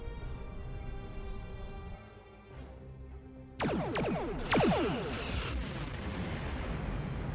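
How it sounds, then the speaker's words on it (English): Starship weapons fire in the video game Star Trek Online, a quiet ambient hum giving way to loud, repeated booming blasts with sweeping energy-beam tones that keep sounding to the end, with no speech. "Target that ship and fire all weapons."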